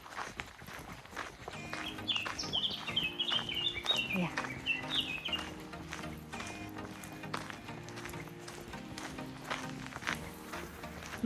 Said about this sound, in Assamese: চৰাই মাত শুনিছেনে চব পিনে